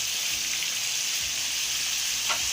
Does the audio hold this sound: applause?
no